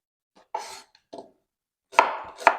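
A knife slicing an onion into thin half-rings on a board, four or five distinct chopping strokes with short pauses between them, the last two sharper and louder, close up and without talk.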